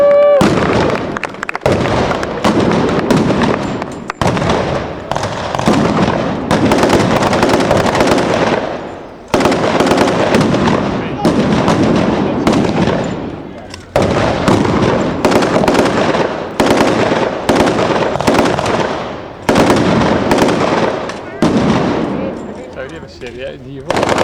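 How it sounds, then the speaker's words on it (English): Battle reenactment gunfire from British Commandos and Volkssturm at the Defence of Blaenavon event, loud bursts of automatic fire mixed with sharp single shots, sustained and echoing outdoors, with a voice speaking over it at times. "And we have a mixture of automatic fire here and single shot fire."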